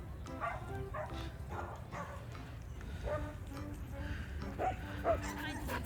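A crowd of dogs in a video game yips and barks in busy, overlapping bursts under a steady background, with voices talking in the mix.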